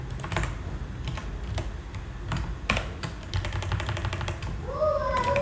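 Keystrokes clatter on a computer keyboard in an irregular burst of sharp clicks, fairly close and steady, with a brief electronic chirp at the very end.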